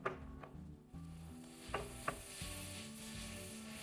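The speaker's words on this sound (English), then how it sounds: "Let's mix." Stirring tomato paste into escarole in a pan, a soft scraping and gentle sizzle with a few sharp spoon clicks against the pan, close and fairly quiet, no talking.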